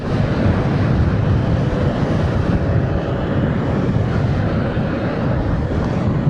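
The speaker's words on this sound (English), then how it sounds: "I'm trying to show you the plane which is going to land." Broadband roar of an airplane coming in to land near Bangalore's Kempegowda International Airport, heard steady and loud from a moving car, mixed with heavy wind rush.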